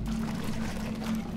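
Water pours steadily in Portal 2, a continuous full-bodied gush that keeps a low, even rush from start to finish.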